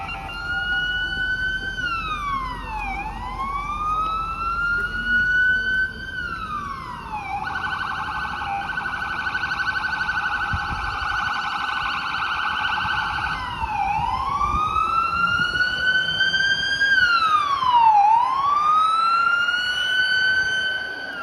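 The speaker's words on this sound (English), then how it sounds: "oh, it's a police car." A police car siren wails continuously in a cold downtown Toronto street, rising and falling in long sweeps before shifting into a faster yelp and back, loud and close above low traffic rumble.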